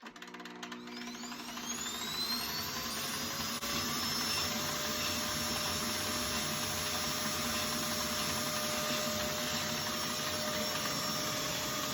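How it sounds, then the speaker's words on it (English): A 2006 Hoover Z700 WindTunnel 2 upright vacuum cleaner with a turning filter starts up, its motor rising in pitch over the first few seconds, then holding a loud, steady whining roar. "So I'm going to turn it on so you can hear that filter go."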